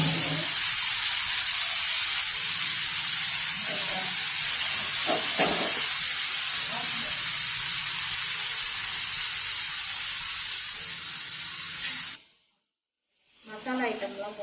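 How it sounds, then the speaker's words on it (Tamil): Paneer, carrot and green chili sautéing lightly in a pan, a steady close hiss and sizzle running throughout with faint clinks, briefly cutting out near the end. "பன்னீர், கேரட், பச்சை மிளகா இதெல்லாம் போட்டுட்டு லைட்டாக வதக்கிக்கோங்க"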